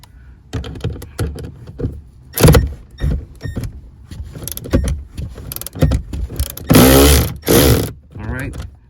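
A 10 mm screw on a Ford F-150 rear seat is tightened with a ratchet, irregular clicks and rattles close up, then a louder buzzing burst of ratcheting near the end.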